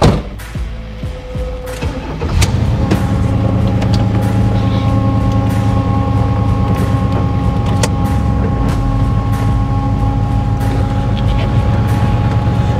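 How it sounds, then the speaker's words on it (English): The engine of a 1976 Pontiac Trans Am with a newly installed Sniper fuel injection system starts after a few clunks and settles into a loud, steady idle. A constant pump-like drone sits close under the engine note. "Fuel pump's a little loud"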